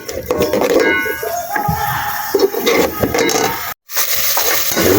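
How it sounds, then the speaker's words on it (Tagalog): Onion and garlic sautéing in a pan for apritada, with clattering utensil scrapes and clinks over a hissing sizzle, close and fairly loud, a brief dropout near the middle. "Ayan nga po, tayo nagigisa na. Sibuyas, bawang."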